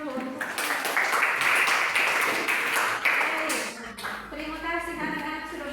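Classroom applause as students clap after finishing a math exercise with positive and negative number cards, a dense burst of clapping lasting a few seconds that fades into a teacher's voice speaking.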